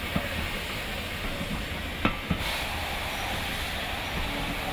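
A Sentinel steam locomotive runs at Middleton Railway, its leaking piston gland blowing steam in a steady, loud broadband hiss, broken by a couple of faint metallic knocks.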